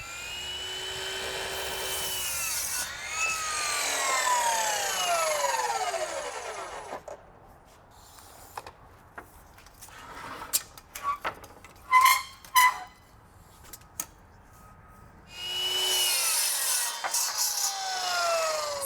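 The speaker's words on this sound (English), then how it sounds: "I'm gonna head over to my miter saw and we're gonna make some cuts." A miter saw cuts wood pieces in two separate bursts, each a loud spinning whine that rises into the cut and then winds down. Between the cuts there are close clatters and knocks of the wood being handled.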